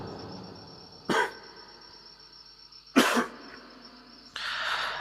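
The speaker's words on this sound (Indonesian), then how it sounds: "ada sedikit kendala dari batuk." Two sharp coughs a couple of seconds apart, close and loud, followed by a burst of breathy noise.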